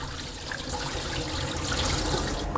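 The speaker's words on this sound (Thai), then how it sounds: "น้ำก็เริ่มใสขึ้นมาแล้วให้เราเทน้ำทิ้งได้เลย" Water pours and splashes steadily out of a bowl of washed liver, a continuous rushing gush without any talking.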